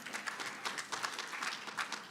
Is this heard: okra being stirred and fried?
no